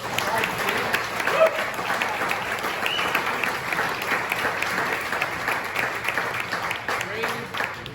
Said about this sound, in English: let's give another round of applause for Cameron Market